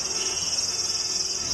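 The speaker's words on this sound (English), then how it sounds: "We open with a very short scene with heavy cicada sound effects" Dense, steady cicada buzzing fills a short anime scene, a continuous high shrill drone with no talking.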